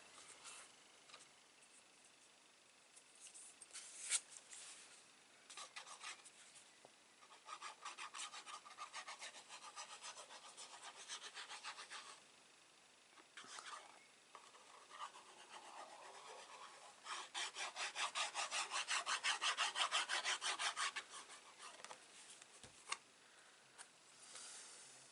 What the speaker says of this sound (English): I'm going to just keep rubbing that down for a minute, especially where this ribbon is